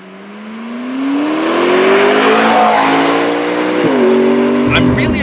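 McLaren MP4-12C sports car accelerating hard, engine note climbing steadily through the gears with a brief dip at a quick shift, loud and close, under someone talking.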